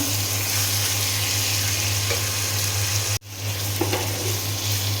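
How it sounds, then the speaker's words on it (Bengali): Beef pieces frying with onions in a pan for a Bengali beef curry, a steady broadband sizzle running throughout with a brief dip partway, faint stirring clicks, no talking. "এখন পেঁয়াজের সঙ্গে খুব ভালো করে আমি ভেজে নেব"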